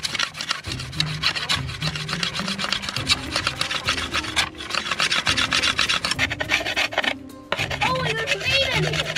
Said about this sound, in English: So now, I'm gonna sharpen this side of the saw with my knife.